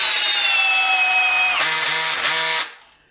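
A Makita DF032D 12V cordless drill whines at high speed as it drives a screw into a piece of wood, the motor pitch dropping under load before it stops abruptly, close and loud.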